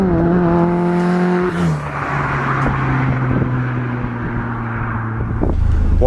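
An MK Sportscars RX-5 (a rebuilt Mazda MX-5) drives with a loud engine note that holds steady, dips as a gear changes, then rises under acceleration, heard from close by.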